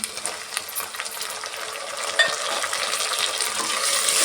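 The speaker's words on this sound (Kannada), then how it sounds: "ಎಲ್ಲ ಸೇರಿಸಿ ಚೆನ್ನಾಗಿ ಈ ಥರ ಫ್ರೈ ಮಾಡ್ಕೊಳ್ಳೋಣ" Brinjal masala with tomato and ginger-garlic paste frying in a pan, a continuous sizzle with scattered stirring scrapes that grows louder and brighter toward the end, no talking.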